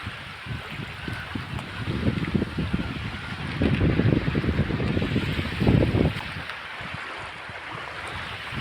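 Waves and wind at Bakkhali beach: a steady rushing wash with wind buffeting the microphone, swelling louder in surges around the middle before easing back, no voices present.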